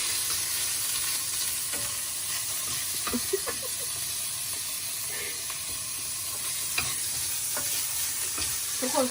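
Pork hitting a pan of cooking garlic, a steady loud sizzle and hiss with scattered stirring scrapes and clicks, close and continuous, no voice.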